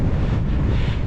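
A strong gust of wind roars steadily across the microphone of a cyclist riding on flat ground into a headwind, drowning out everything else.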